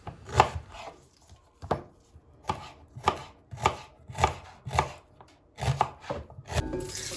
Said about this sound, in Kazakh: Енді тазаланған пияздарымызды тураймыз.